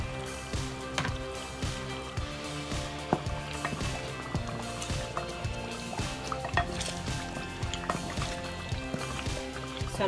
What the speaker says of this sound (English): So I'm just gonna mix this until it dissolves with the stew.